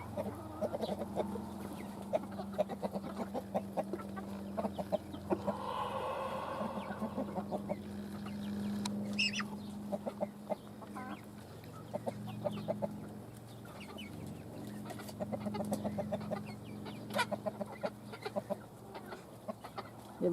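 Young chicks cluck and peep after feeding, soft chirps and clucks scattered close by over a low steady background, with a brief burst of rustling in the middle.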